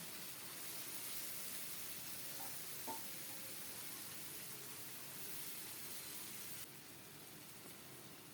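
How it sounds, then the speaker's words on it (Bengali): Marinated chicken frying in a hot pot with bay leaves, cardamom and cinnamon for chicken pulao, a continuous soft sizzle that eases slightly near the end. "এখন মাখিয়ে রাখা মাংসটা দিয়ে দিচ্ছি"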